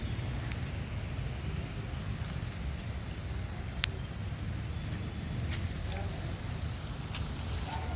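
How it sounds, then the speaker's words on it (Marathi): Steady rain falls with a dense, even hiss and occasional sharper drop taps, some low rumbling wind-like noise underneath throughout. "आता पाऊस पडायला लागला आहे हे बघा"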